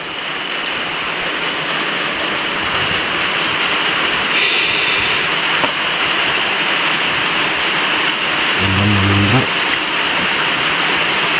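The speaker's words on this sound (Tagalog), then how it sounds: "Umuulan na mga idol." Heavy rain pours steadily in a cemetery, a dense, loud hiss that never lets up, with a few faint voices and a brief low hum partly buried under the downpour.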